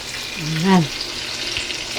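Eggplant frying in oil in a clay pot (palayok) for tortang talong: a soft, steady sizzle close by, with a brief voice rising over it midway.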